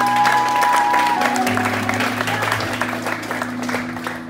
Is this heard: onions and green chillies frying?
no